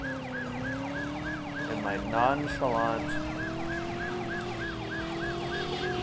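A police car siren wails continuously and loud in the Driver video game, cycling steadily as a police car drives, with a short bit of speech over it.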